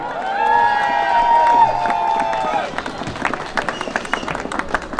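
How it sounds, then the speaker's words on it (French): An audience bursts into applause at a 2018 Friday ceremony with a key handover and a mask contest. A sustained tonal sound fades out first, then dense, crackling hand-claps fill the room at moderate loudness. "On vous les applaudit bien fort."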